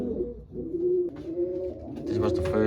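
Racing pigeons in a loft coo in soft, rolling low calls, close and continuous, with a voice speaking faintly over them.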